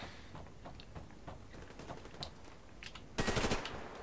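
Gunfire in the online shooter Survarium, a low crackle of distant shots through most of the stretch before a louder, dense burst of rapid automatic fire lasting about half a second near the end.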